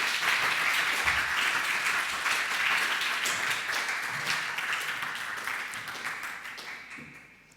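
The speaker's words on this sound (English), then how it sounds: "please join me in giving a very warm round of applause to our speakers." Audience applause for speakers at an indoor talk event on music and manga, dense sustained clapping from a sizeable crowd that slowly fades toward the end.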